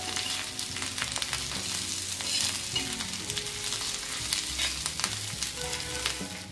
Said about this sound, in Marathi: त्याला पण आपल्याला असं काही सेकंद परतून घ्यायचं